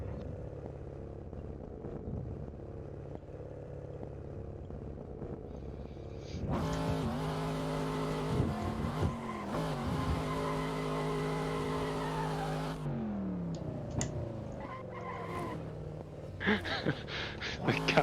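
Race cars drifting in an online video game, with engine roar and tire squeal that swell sharply midway and rise and fall with several cars, heard with no talk over it.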